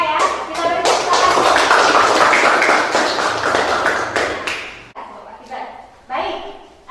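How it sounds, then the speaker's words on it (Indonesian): Classroom applause from students, a burst of dense clapping that fills the room for several seconds, then thins out into a few scattered claps and a teacher's voice speaking. "Kita beri tepuk tangan."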